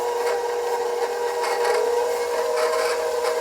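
Electric mixer creaming butter and sugar for butter cookie dough, a steady, close whirring motor drone with a constant pitch and faint scraping texture, running alone without pause.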